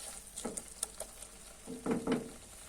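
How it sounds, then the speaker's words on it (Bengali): Spice paste (masala) being fried and stirred in a pan for a pabda fish curry, giving soft sizzling with a few clattering stir strokes, two louder bursts of scraping near the end, close and fairly quiet. "এবার আবারও একটু ভালো করে কষাবো"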